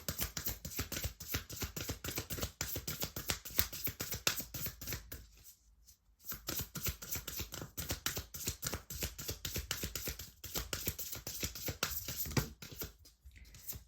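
Rapid, dense riffling and tapping of tarot cards being shuffled, close and fairly quiet, pausing briefly twice before starting again.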